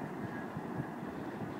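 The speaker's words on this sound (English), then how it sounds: "There goes the train again." A train passing by outdoors near a rooftop, a continuous broadband rumble and rush heard at steady loudness throughout the short moment.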